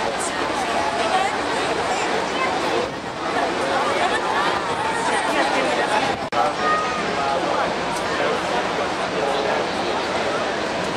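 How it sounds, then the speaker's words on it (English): A large crowd waits at Niagara Falls, Ontario, before Nick Wallenda's 2012 tightrope walk, a steady outdoor hubbub of many voices under a constant wash of background noise. "So this is the crowd just before the sun goes down."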